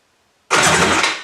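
A Tiger Shark 900 jet ski engine, freshly installed, cranks over: after a half-second of quiet a loud, steady mechanical whirr starts abruptly and holds until the end.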